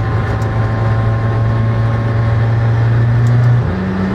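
Cabin drone of a McLaren Senna supercar under hard acceleration, a loud, steady engine tone climbing gradually, then dropping briefly and rising again as a gear changes near the end.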